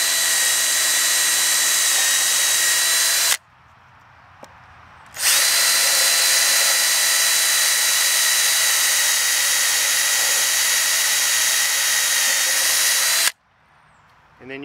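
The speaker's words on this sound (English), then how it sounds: "two or three holes right into the wood. You don't need to go all the way through." A power drill boring pilot holes into wood for a raised garden bed frame: a loud, steady high-pitched whine runs for several seconds, stops briefly, then runs again for a long stretch before cutting off.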